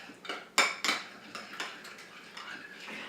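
Metal utensil scraping and clinking against a pan while salmon with lemon is stirred, several sharp taps and scrapes at an uneven pace, close by and moderately loud with no talk.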